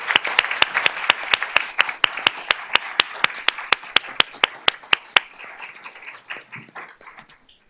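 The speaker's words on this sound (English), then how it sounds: "Let's give them a round of applause." Applause at a school district board of trustees meeting honoring student art winners: a single close pair of hands claps in a steady rhythm for about five seconds over softer scattered clapping, then fades out.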